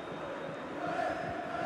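Football stadium crowd cheering and roaring steadily throughout, a dense, continuous wash of voices encouraging a player during a match, with no distinct talk on top.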